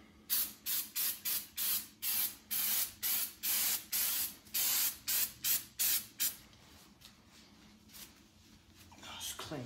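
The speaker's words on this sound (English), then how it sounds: "so that when we're spraying we can get the whole lot in one hit" Aerosol spray paint applied to a BMR strut brace in a series of about fourteen short, close, loud hissing bursts in a steady rhythm, then quieter background.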